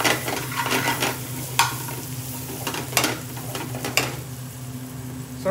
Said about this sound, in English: Right, the onions are caramelizing beautifully.